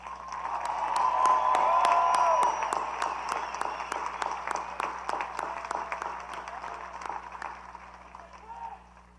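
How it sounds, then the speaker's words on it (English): Audience at a high school commencement applauds in a large venue, with sustained crowd clapping that swells early, then thins into scattered distinct claps as it tapers off. "Please join me in thanking them with another round of applause."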